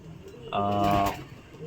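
A single low pigeon coo, about half a second long, sounds close by in a loft, with quiet background noise before and after.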